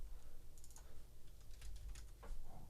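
Quiet, quick typing on a computer keyboard, a short run of light irregular key clicks, close up and alone.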